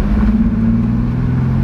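A Jeep engine with a newly installed intake, revved lightly: a loud, deep, steady rumble held for under two seconds, close by with no talk.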